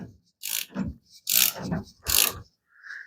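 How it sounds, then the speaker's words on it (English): A ratchet snugs up front suspension bolts on a 1975 Plymouth Duster, giving three close, crisp clicking strokes with brief pauses between them in a quiet garage. "You snug them up with your ratchet like this. Snug them up good."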